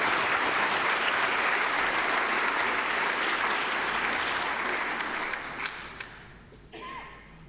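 Hall audience at a civic prayer breakfast applauding a speaker, steady loud clapping from a large crowd that fades out toward the end.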